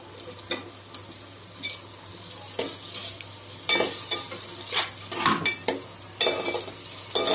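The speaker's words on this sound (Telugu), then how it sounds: "ఈ టొమాటోలు కూడా లైట్ గా మగ్గించుకుందాం।" Tomatoes, onions and green chillies frying with ginger-garlic paste in a pan for a mushroom curry, a low steady sizzle with repeated scraping and clinking strokes of a spatula stirring.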